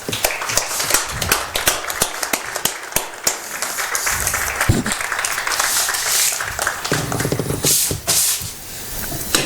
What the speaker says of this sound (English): Please join our players and coaches in honoring them with a big round of applause.